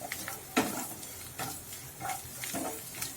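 Two tablespoons of poppy seeds roast in a pan over a medium flame with ginger and garlic, giving a soft crackling sizzle. Scraping stirs come repeatedly, close and fairly quiet.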